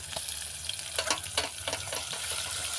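Garlic and cumin paste fries in a pan over a wood-fired stove for dal palak, a steady close sizzle with bursts of spattering and stirring.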